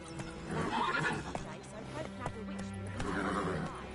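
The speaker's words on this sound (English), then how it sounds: "Oh no, that's not our horse, that's Vesemir's." Horse whinnying and hooves clip-clopping in the video game The Witcher 3: Wild Hunt, a couple of neighs rising over busy game sound with voices talking throughout.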